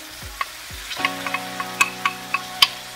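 Leeks go into a pan of sweating onions for a braised lamb shank dish, setting off close sizzling with a string of sharp pops and crackles over a low cooking hiss, no talk.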